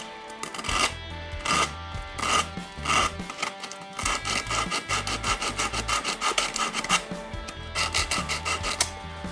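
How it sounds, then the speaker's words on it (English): Sanding end grain in a tight corner of a guitar neck by hand: close, rhythmic rasping strokes in a steady back-and-forth pattern with short pauses, and no voices. "It's a tricky spot to sand because it's a tight corner. It's also end grain here, so it doesn't really sand very well."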